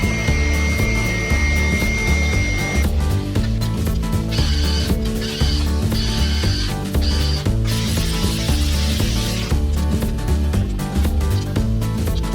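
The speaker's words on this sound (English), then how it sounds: "Drill a hole out for this pass through to go through." A power drill bores a hole for a bulkhead pass-through fitting while an old Hunter TC150 tire changing machine is being refurbished. Steady loud whirring sounds alone with several short bursts of higher-pitched drilling.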